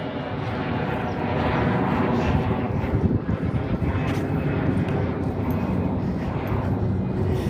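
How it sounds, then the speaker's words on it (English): Airplanes pass overhead, hidden above overcast June gloom at Mission Beach in San Diego, as a steady, broad jet roar that fills the whole stretch with gusty wind buffeting mixed in. "I can hear the airplanes, but I can't see them"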